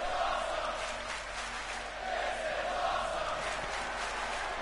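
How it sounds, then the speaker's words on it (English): Wrestling event crowd at a ringside venue, a loud sustained roar of cheering and shouting that swells and holds throughout. "This crowd is loving this."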